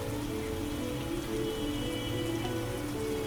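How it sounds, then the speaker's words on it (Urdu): Heavy downpour used as a sound effect in an Urdu audiobook, a dense, steady roar of rain drumming on surfaces, loud and continuous with no voice over it. "باہر موسلادھار بارش تیز ہو گئی"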